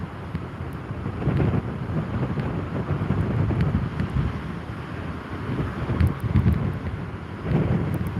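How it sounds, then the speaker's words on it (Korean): On the Jeju shore, typhoon Bavi drives waves up over a white lighthouse while gusting wind buffets close by, the surf breaking in heavy, repeated surges beneath a constant loud roar. "하얀 등대 위까지 파도 다 올라가네요"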